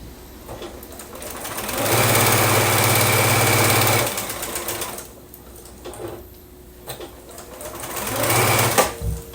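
Sewing machine stitching quilt block seams, running loud and close in steady whirring bursts with brief pauses between runs, heard alone without talk.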